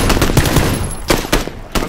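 Bursts of automatic gunfire in PUBG fire in quick clusters, loud and close, with short gaps between volleys.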